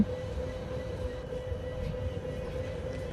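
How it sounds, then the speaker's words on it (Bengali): A train pulling away in the Train Sim Bangladesh game, a steady low rumbling drone with a faint hum, continuous and even throughout. "তো ট্রেন ছেড়ে দিয়েছি।"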